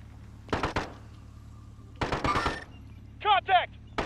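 Bursts of gunfire crack out in two separate volleys during Call of Duty: Modern Warfare gameplay, each loud cluster of shots lasting under a second, followed by two short tonal game sounds.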